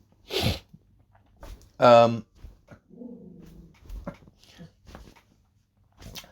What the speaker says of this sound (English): And oh, my dog's off again.